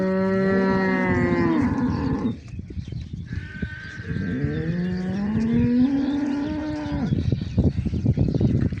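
Foreign-breed cattle at a large herd station moo in several long, drawn-out calls, fairly close and loud, with short pauses between them and some rustling in the background.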